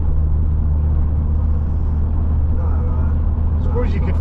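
Steady in-car drone of a Mk3 Vauxhall Cavalier cruising the M40 motorway in England, a constant low engine and road rumble with tyre noise running throughout, and a faint higher sound creeping in near the end.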